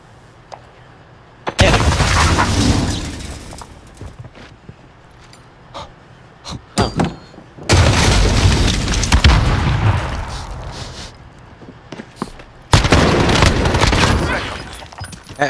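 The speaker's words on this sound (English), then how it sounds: "I hit Lars with a grenade" Grenade explosions in Call of Duty, with three loud, heavy blasts that roar and then slowly die away, separated by quieter gaps holding scattered sharp gunshots.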